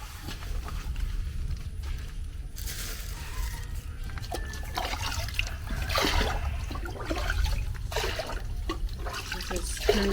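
Clean water runs and splashes while millet dough for spicy ogi (Hausa koko) is being prepared, a steady nearby trickling with irregular pours and splashes across the whole stretch.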